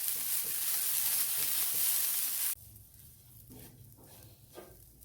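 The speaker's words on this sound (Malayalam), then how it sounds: "നമുക്ക് നല്ല ചുമക്കെ ഒന്ന് വറുത്തെടുക്കാം." Grated coconut and a small piece of tamarind dry-roasting in a pan, giving a steady dense sizzle and hiss for a few seconds that then drops to a quieter crackle with faint stirring scrapes.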